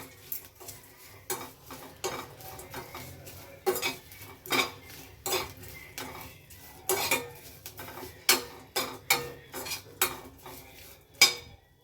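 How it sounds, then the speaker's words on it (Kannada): Garlic cloves being dry-roasted for homemade rasam powder, with a spoon scraping and clinking against the pan in quick irregular strokes, close and moderately loud, no talking. "ಬೆಳ್ಳುಳ್ಳಿ ಸ್ವಲ್ಪ ಹಸಿ ವಾಸನೆ ಹೋಗಬೇಕು, ಅದಕ್ಕೋಸ್ಕರ ಹುರ್ಕೊಳ್ಳೋದು"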